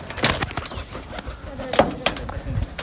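A pigeon flapping away in a few quick bursts of wingbeats, close and moderately loud, amid faint background voices.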